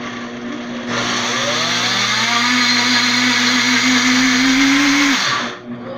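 A kitchen blender re-blends homemade salted butter, its motor starting after a moment, running loud and steady for several seconds, then cutting off.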